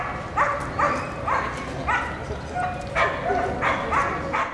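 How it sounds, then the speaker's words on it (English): Dogs bark repeatedly in short yapping bursts at a moderate distance in a park, over a busy outdoor background with birds chirping and faint people talking. "Birds chirping, people talking, dogs barking."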